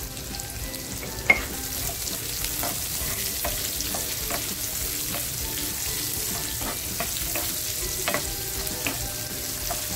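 Potato pieces and green chillies fry in a pan with a continuous bright sizzle, broken by scattered pops and occasional stirring scrapes, close and steady without any voices.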